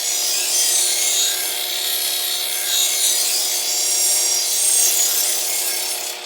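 A knife edge is buffed on a power polishing wheel, putting on a micro bevel: a steady, close, even rubbing whir with a bright hiss that holds without break for the whole stretch.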